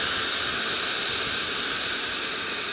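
A loud, steady rush of compressed air escapes through the opened ball-valve lever of a Vevor 6600 lb pneumatic triple air bag floor jack as it lowers a trailer, a continuous close hiss fading slightly at the end.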